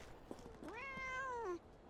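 A cat meows once in the video game Sherlock Holmes: The Awakened, a clear, drawn-out rising and falling call that stands alone against quiet background ambience.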